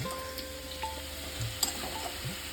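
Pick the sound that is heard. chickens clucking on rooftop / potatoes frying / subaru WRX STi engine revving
potatoes frying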